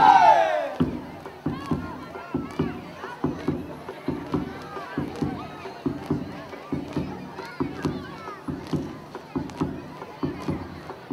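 Crowd at a school folk-dance presentation in Puente Piedra, Peru, clapping in steady rhythmic unison with cheering, a continuous dense roar of palms beating about twice per second throughout, with voices mixed in.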